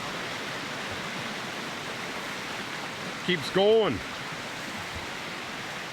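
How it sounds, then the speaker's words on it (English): A creek beside an old homestead site in the Rocky Mountains rushes in a steady, close, unbroken hiss throughout, with someone speaking briefly partway through. "Right by the creek."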